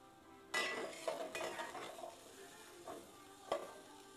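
Onion dropped into a hot pan for milkfish sinigang, a sudden burst of sizzle followed by a few spoon stirs and a metallic clink, quiet and without speech.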